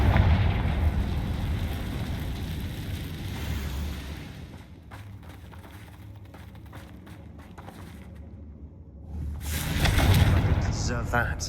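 A Confringo fire spell explodes in Hogwarts Legacy during a fight with Ranrock's goblin loyalists in a mine, a booming burst over a rumbling, busy battle bed, with a voice speaking through it.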